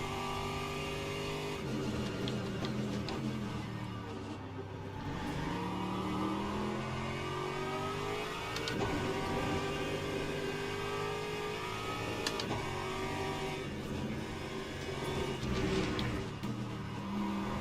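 GT3 race cars lap in Le Mans Ultimate with a steady, moderately loud engine drone. Pitch sweeps rise and fall as cars accelerate and shift, several machines overlap, and nobody talks over the engines.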